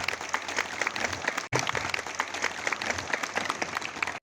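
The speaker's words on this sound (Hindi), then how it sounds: "आप मैं सभी से आग्रह करता हूं जोरदार तालियों से उनका" An assembled crowd gives MLA Umesh Patel a warm welcome with steady, dense applause from many hands, heard at moderate distance, briefly dipping midway before carrying on with a few voices audible within it.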